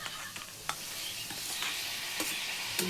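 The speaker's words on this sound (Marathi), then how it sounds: "बोंबील चांगले परतले पाहिजेत ना तेलात, म्हणून अगोदर टाकले तेलात मी." Dried bombil fish sizzling in hot oil as tomatoes go in and get stirred, a continuous close crackle with a few scraping knocks of the spoon, no voices.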